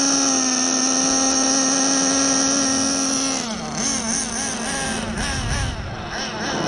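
A HoBao Hyper VS2 nitro RC car engine with a T4 glow plug runs at a steady high-pitched whine, then wavers and changes pitch as the throttle shifts. It stays close and continuous throughout.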